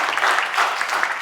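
A classroom of students gives a brief round of steady applause for a BBA student hoping to become an entrepreneur, dense overlapping claps at moderate loudness with no voices.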